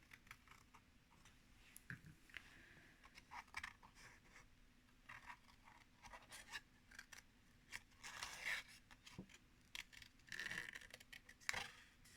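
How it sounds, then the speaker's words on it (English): Quiet, close snipping of scissors through paper, short irregular cuts repeating over a soft background with small rustles in between. "carefully take my scissors and trim out these flowers"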